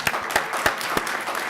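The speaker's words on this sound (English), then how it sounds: "Give them a round of applause." Audience applause at a child rights and sight conference, honoring volunteers: a steady wash of clapping from many hands with a few sharper claps standing out, fairly close and continuous throughout.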